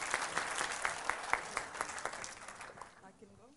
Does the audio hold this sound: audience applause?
yes